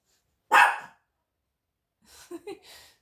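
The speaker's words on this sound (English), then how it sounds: "Dogs." A single sharp dog bark, then after a pause a couple of quieter, shorter yelps or huffs nearby.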